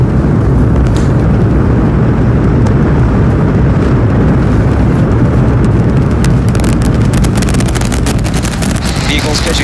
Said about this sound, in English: We have liftoff. Go Super Heavy. Go Starship.